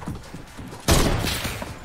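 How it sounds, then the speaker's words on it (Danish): Fortnite gunfire erupts suddenly as a loud, dense burst of shots that continues as a sustained barrage after a quieter stretch of faint game sounds. "Og nu bliver jeg skudt på"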